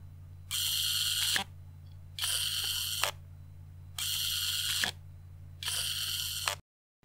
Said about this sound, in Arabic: وهذا هو الصوت اللي ينتج عن فتح واغلاق الكاميرا